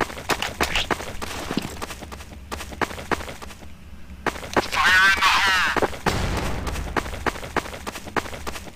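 A grenade goes off in Counter-Strike: Source as a loud, dense burst around mid-clip, set among scattered gunshots and other game sounds.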